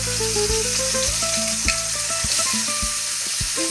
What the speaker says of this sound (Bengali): হালকা করে পেঁয়াজটা ভেজে নেবো।